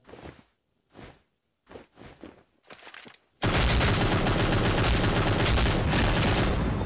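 A few scattered gunshots in the mobile video game Cyber Hunter Lite give way to a loud, continuous burst of rapid automatic fire that runs to the end.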